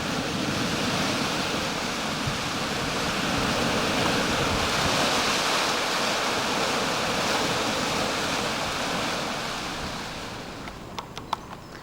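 A waterfall runs down into a swampy area on the coast at Saltwick Bay, a loud, steady broadband rush of falling water with a few faint clicks near the end and no voices.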